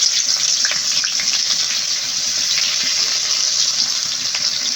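Cumin and onion frying in hot oil for a village-style egg curry, a loud, steady, close sizzle that holds even from start to finish, with no speech.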